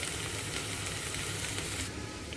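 Potatoes fry in hot oil in a pan for aloo beans curry, a close, steady sizzling hiss with soft crackle that eases slightly near the end.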